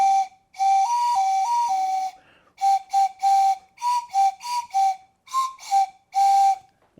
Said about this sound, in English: the carrot recorder. So those are all the holes for your fingers like that.